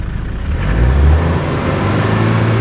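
A car engine with a faulty alternator revs up, a loud, close, low rumble that rises briefly around the middle and then settles back to a steady idle.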